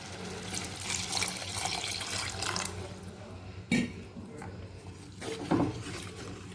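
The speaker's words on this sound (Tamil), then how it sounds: "இப்போ இதில் தண்ணி ஊற்றிக்கலாம்." Water pours and splashes into a pan of Kerala-style fish curry, a steady close running flow with a couple of sharp clinks of the vessel.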